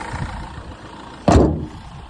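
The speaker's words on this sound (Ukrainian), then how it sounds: "Моторчик працює гарно м'яко." A Renault Megane engine idles with a steady, soft rumble, joined by a short louder burst partway through.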